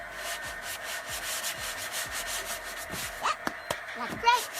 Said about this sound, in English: He's helping Dad sand down the wood.